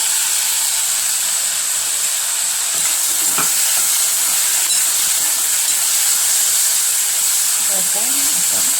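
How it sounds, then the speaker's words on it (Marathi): Grated coconut and garlic dry-roasting in a hot pan for Kolhapuri chicken masala, a steady close sizzle and hiss throughout with occasional stirring scrapes and no talk. "खोबरं, लसूण हे सगळं भाजून घ्यायचं."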